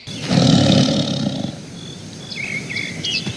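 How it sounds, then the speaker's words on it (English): A tiger's deep roar, loud and close, swells for about a second and then fades, followed by a few faint high chirps at the end. "T for tiger."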